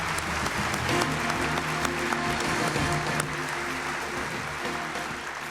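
Sustained applause from an audience at the 1998 World Food Prize award ceremony, a full, steady clapping that carries on for several seconds and eases slightly at the end.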